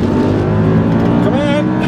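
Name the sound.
Audi R8 accelerating hard from standstill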